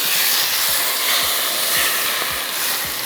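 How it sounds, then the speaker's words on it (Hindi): Hot oil tadka poured over masala potatoes crackles with a steady, broad sizzle and hiss that stays loud and close throughout, with no talk over it. "ये लग गया तड़का, सही है।"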